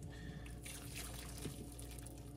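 Liquid draining from a pot of cooked beans with ham hock in a hotel room, a steady trickling and splashing stream, close and continuous.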